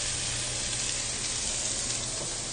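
Food sears in a hot pan, a steady, dense sizzle that stays fairly quiet and even throughout, with no talking over it.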